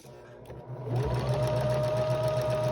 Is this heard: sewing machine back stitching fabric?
yes